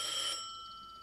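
A telephone bell rings once in a bright, sustained electronic trill, then lingers and decays into quiet, with no one speaking.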